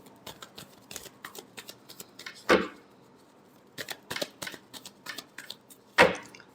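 Tarot cards are shuffled by hand in quick riffling bursts and soft flicks, with two louder riffles standing out, close and clear with no talk.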